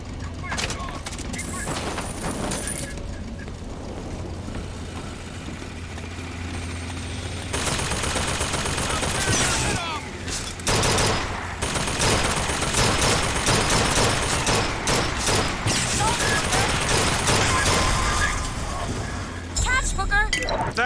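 A Bioshock Infinite shootout erupts in dense bursts of gunfire, rapid rattling shots and sharp cracks layered over a loud, chaotic background, intensifying midway and continuing almost without pause.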